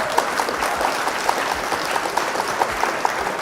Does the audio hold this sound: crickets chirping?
no